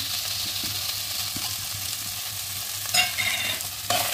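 Spices stirred into vada pav potato filling frying in a pan, a steady soft sizzle with spoon scrapes and light clinks, close and alone with no talk.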